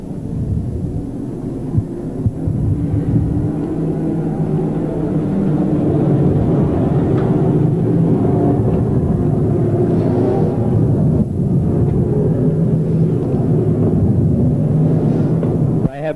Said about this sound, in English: Provided us with some pretty close racing tonight, the GP Midgets.